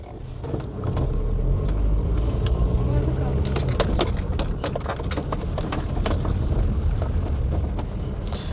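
A car drives in and parks outside an apartment building, its engine rumbling steadily throughout with scattered clicks and knocks, fairly close.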